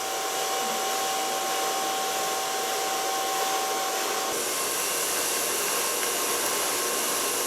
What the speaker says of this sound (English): Start blower drying from the neckline